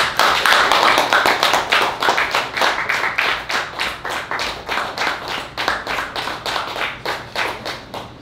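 At a poetry reading, an audience claps for the poet Madison McCartha in a loud, steady, rhythmic beat of roughly three claps per second that holds evenly and tapers slightly toward the end.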